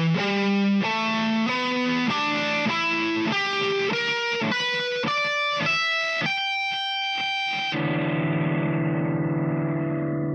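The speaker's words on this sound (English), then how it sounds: "watch what happens if I play the same scale without muting any strings." Overdriven electric guitar picks a rising scale note by note without palm muting, each unmuted tone ringing into the next with buzzy string noise, then ends on a low sustained chord.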